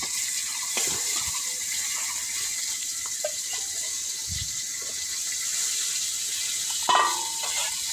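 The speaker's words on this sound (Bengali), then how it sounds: "এখন আমি মাছগুলো দিয়ে নিতেছি।" Fish sizzles steadily in hot oil in a pan, a constant hissing fry with occasional soft clinks and bumps of the pan, no one talking.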